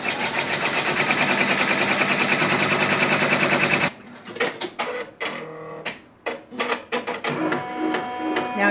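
A multi-needle embroidery machine runs a tack-down stitch on fabric in a large hoop, a loud steady rapid buzz that cuts off abruptly, followed by scattered mechanical clicks and ticks as the machine slows and resets.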